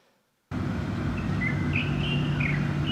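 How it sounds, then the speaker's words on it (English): Light-vented bulbul call played from a recording: after a brief silence, short chirpy warbling phrases rise over a steady low background rumble, moderately loud and repeating in a few bursts. "This is the light vented bulbul that was at the tea farm, and also we can play this sound."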